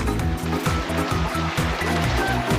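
Cold stream water rushing at Arbis Falls, a loud, steady, close roar of flowing water with a faint repeating low rumble underneath, no talking.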